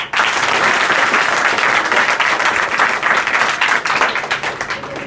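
Students and staff clap hard for a lecturer at a school event in Mahuwa Murarpur, Azamgarh. The applause starts abruptly and holds thick and loud for several seconds, tapering a little toward the close.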